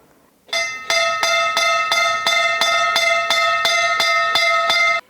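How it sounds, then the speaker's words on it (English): An electric school bell rings loudly and continuously for several seconds, its metallic clang pulsing rapidly before stopping abruptly. "Did you hear that sound? What was it? The school bell."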